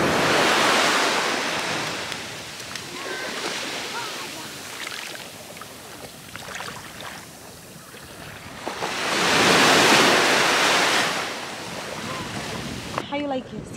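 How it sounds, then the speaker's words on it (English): Strong Caribbean sea waves at a Sint Maarten beach, two big crashing surges of surf rising and fading with wind noise on the microphone between them, loud and near. "The waves are very strong."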